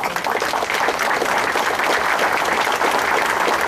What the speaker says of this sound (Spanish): a la señora Laura del Rocío de Aguirre, para quien pido un fuerte aplauso.